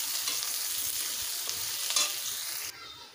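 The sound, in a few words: frying chopped onion and garlic in pan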